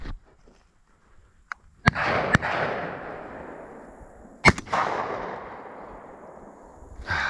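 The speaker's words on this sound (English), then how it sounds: "That was not a good shot." Shotgun blasts ring out during a dove hunt in open country, two sharp close reports followed by a long rolling echo, then two more shots, with near silence between.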